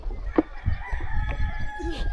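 Chickens at close range, a sharp cluck up front followed by a stretch of low murmuring clucks and scattered squawks from a small flock.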